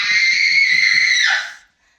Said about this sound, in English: that's her total freakout scream